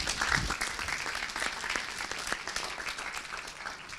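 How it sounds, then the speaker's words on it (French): An audience claps steadily at a closing event for France's equality tour, a dense wash of hands at even volume with a slightly louder burst near the start. "Je crois qu'on peut l'applaudir."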